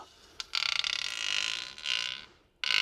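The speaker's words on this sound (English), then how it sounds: "That's the sound of the plastic thing just sliding through there." A high, squeaky scraping of a plastic spacer sliding through a metal axle knuckle on a Jeep JL Wrangler comes in a few drawn-out strokes with brief pauses between them, close and fairly faint.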